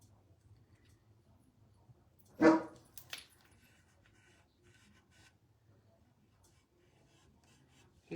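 A dog gives a single short, sharp bark indoors, then a quieter follow-up yelp, amid an otherwise hushed room with faint scratchy rubbing sounds.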